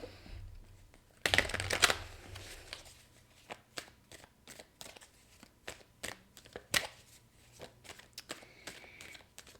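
Rider-Waite tarot cards being shuffled close up, a burst of riffling followed by a series of soft, irregular taps and slaps of the cards, quiet and with no voice over them.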